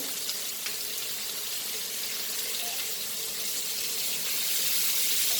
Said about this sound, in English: And fry this nicely. On the slow fire.